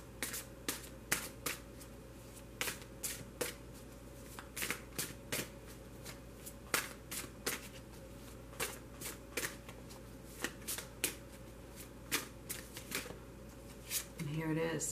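A deck of Wisdom Oracle cards is shuffled repeatedly at close range, giving a steady run of crisp riffling snaps under a continuous low hum, with a person talking.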